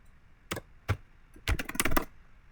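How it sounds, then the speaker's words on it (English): Several crisp clicks from keys on a computer keyboard while a name goes into a web form field: isolated taps near 0.5 and 0.9 seconds, then a quick cluster of keystrokes, close and clear with no voices. "If you're going to type your name"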